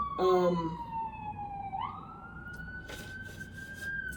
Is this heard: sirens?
yes